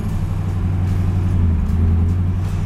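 A 1969 Camaro Z/28 engine runs at a steady idle, a deep low rumble holding even and close throughout with no voices.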